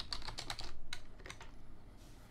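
A username and password are typed on a computer keyboard while logging into Linux Mint 15: a quick run of close, crisp key clicks, a short pause, then a few more taps.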